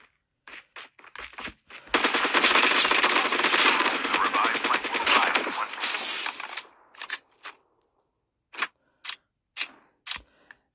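Rapid automatic gunfire from a weapon in the mobile video game Call of Duty: Mobile, a loud sustained burst of several seconds, preceded and followed by scattered single shots and short clicks.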